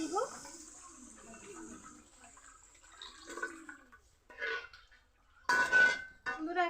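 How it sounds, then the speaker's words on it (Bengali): Water splashes and pours into a pan of fried spiced cauliflower curry masala, with light metallic clinks of pan and utensil, coming in short bursts near the mic. "এখন জল দিয়ে দিব।"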